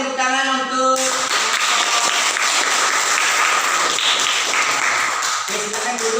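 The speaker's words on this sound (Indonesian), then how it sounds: "berikan tepuk tangan untuk." Students in a classroom applaud, a burst of busy clapping that begins after a short musical note and continues for several seconds, close and loud, with a voice speaking near the end.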